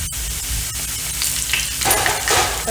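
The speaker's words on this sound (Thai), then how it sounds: "ค่อยๆทอดไปนะคะจะใช้ไฟแรงนะคะ" Noodles frying over high heat in a hot pan of oil, a loud continuous sizzle with sharp crackles and stirring scrapes, close up with no talking.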